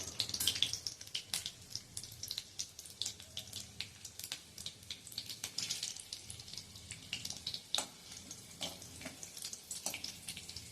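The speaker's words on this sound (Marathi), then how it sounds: "आता ह्यामध्ये मी घालणार आहे 3 मिरच्या घेतल्यात, तुकडे केलेले आहेत आणि ते मिरच्या घालणार आहे" Chopped green chilies sizzle and crackle in hot ghee in a pan, a soft, continuous frying hiss with scattered sharp pops and no talking.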